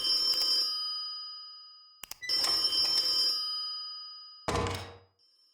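An old telephone rings in a horror video game: two loud bursts of electric bell ringing separated by a pause, then a short clunk-like ring fragment before it falls silent, with no talk.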